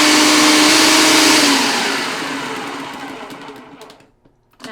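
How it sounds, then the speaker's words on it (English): A food processor whirs loudly as it chops a cake mixture, a steady motor drone that slowly drops in pitch and fades, then cuts off with a few light clicks at the end. "put this in our food processor, and we're just gonna process until it's all chopped up"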